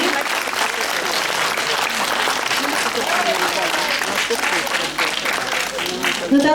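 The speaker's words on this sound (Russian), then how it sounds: "Благодарим участников бурными аплодисментами." Dance festival audience gives a warm round of applause for the participants: steady, dense clapping from a crowd in a hall, continuous and fairly even throughout.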